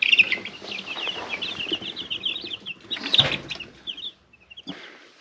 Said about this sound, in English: the baby Rhode Island red chickens are doing great